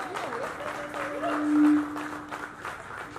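Light applause from an audience at a Marathi film trailer launch event, a soft patter of clapping under a sustained tonal hum from the sound system, with a brief swell partway through.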